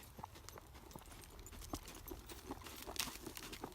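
Hooves of a young horse walking around during a warm-up, irregular soft clip-clop footfalls at moderate distance with light background noise.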